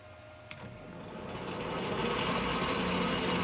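A metal lathe turns at about 360 RPM taking a light five-thou cut to reface the back plate of a mini flywheel with a carbide insert, giving a steady, close mechanical whir and rumble that builds slightly, with one brief click near the start.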